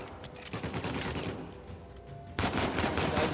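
Uncharted 4 gunfire crackles in rapid bursts, with a sudden louder volley near the end.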